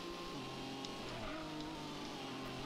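A rival race car in the PlayStation game Gran Turismo drones steadily from behind, a faint, even engine whine with shifting tones that holds throughout and is never interrupted by speech.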